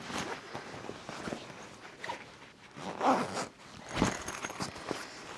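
A zipper runs along a packed bag of underwear in a travel backpack, a few quick rasping pulls close by in an otherwise quiet room, with faint rustling between them.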